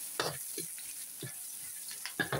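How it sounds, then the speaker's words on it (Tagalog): Garlic and ginger frying in hot oil, a soft steady sizzle with a few stirring scrapes, fairly quiet and close. "So, mainit na yung mantika. Lagay na natin po yung bawang luya po."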